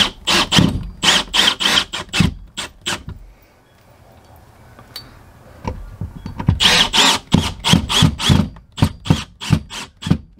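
Power drill driving screws into an RV window frame during window seal replacement, in two clusters of short repeated bursts, loud and close, separated by a quieter pause.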